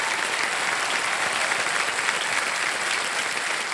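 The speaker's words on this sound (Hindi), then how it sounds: "जोरदार तालियां आपके साथ।" A loud, sustained roar of studio audience clapping fills a KBC game show set, dense and even throughout with no pauses and no talk over it.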